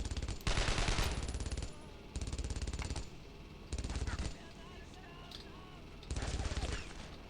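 WWII-era MG42 machine gun in the shooter game Brothers in Arms: Road to Hill 30, firing four loud, sustained bursts separated by short pauses.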